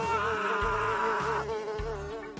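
A steady, close insect buzz drones on without a break for over two seconds, with soft low thumps recurring beneath it at a regular pace.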